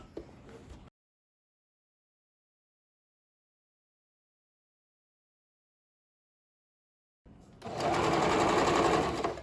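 A sewing machine stitches fabric for a summer bag. After a brief burst, a long silence follows, then a close, rapid, steady mechanical chatter starts up.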